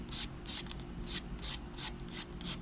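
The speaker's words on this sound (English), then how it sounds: "you're going to push your file down, but at an angle" A nail file scrapes across an edge-style nail tip in about seven quick, even strokes, each a close, dry rasping rub, with no talking.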